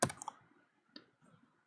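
A few keystrokes on a computer keyboard, a quick cluster of clicks at the start, then two isolated taps, faint and close in a quiet room.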